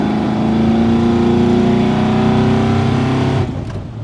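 A 502 big block V8 in a 1989 crew cab squarebody pickup roars steadily under hard acceleration, its pitch climbing for about three seconds before abruptly cutting off and dropping away.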